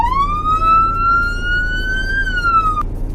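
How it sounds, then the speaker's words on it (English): Police car siren in Roblox Greenville: a single loud wail sweeps upward, holds steady, then dips and cuts off abruptly just before the end. "Here is the first siren,"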